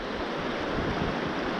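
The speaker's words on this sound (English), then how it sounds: "I've just come across this river" A fresh mountain river runs with a steady, full rushing wash, close and unbroken for the whole moment, with no voices over it.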